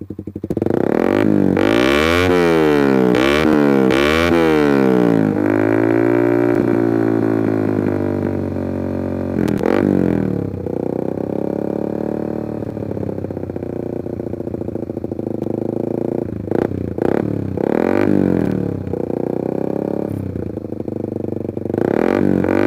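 A modified Suzuki Satria FU fuel-injected motorcycle engine revs up and down repeatedly, then settles into a rough, throaty idle with a few more sharp throttle blips, close by.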